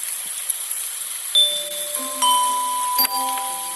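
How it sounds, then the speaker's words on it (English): Bright bell tones ring one after another in a short rising melody, each note sustained and overlapping the next, clear and close. "Tap on each of the bells in turn."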